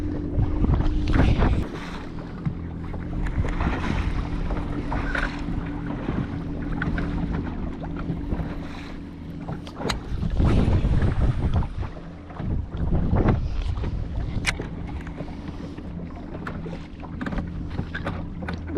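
Gusty wind buffets the microphone on a fishing boat on a lake, rising and falling in loud rumbling surges across the whole stretch with occasional knocks, no talking.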